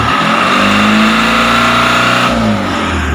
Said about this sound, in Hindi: ये जो इंजन की गरजने का आवाज़ है ये पहले नहीं आ रहा था